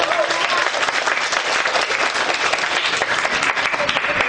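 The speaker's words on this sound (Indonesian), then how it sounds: "Kasih tepuk tangan dulu dong." Audience applause at a graphology session, dense steady clapping from a crowd sustained throughout at a loud, even level with no pauses.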